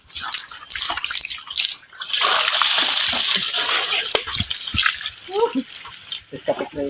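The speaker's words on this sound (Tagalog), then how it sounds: "dito ako guys, kukuha ko ng tubig" Water splashing and sloshing as someone fetches water outdoors on a farm trip, fairly loud and continuous with bursts of dripping, while people talk over it throughout.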